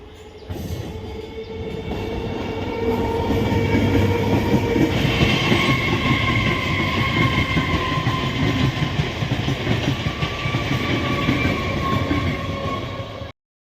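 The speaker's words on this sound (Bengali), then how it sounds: "ট্রেনে চেপে চলে এলাম গোবরডাঙ্গা স্টেশন।" Train ride arriving at Gobardanga station: a steady roar of rolling wheels and carriage rumble with a high wheel squeal rising midway, continuous and close, cutting off abruptly at the end.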